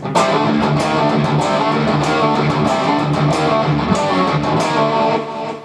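A loud distorted electric guitar plays a riff thickened with power chords, giving fast, driving picked notes with crisp repeated attacks and a full, saturated tone, and no one talking.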